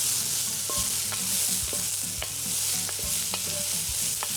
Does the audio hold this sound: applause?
no